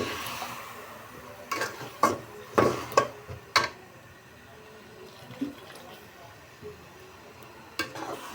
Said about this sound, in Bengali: একটু কষিয়ে নিচ্ছি মশলাগুলো।